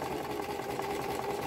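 A sewing machine stitches fabric and lace with a steady, continuous whirring hum and a fast mechanical rattle, running close and alone without any talking.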